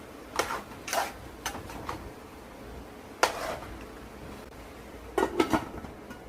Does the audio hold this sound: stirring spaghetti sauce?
yes